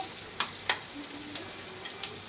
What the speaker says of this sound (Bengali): পেঁয়াজটা লালচে হয়ে ভাজার জন্য একটু অপেক্ষা করছি